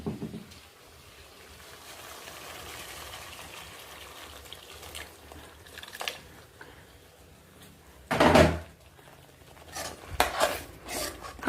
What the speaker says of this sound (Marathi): हे बघा मी आता गरम पाणी घालतेय त्यामध्ये.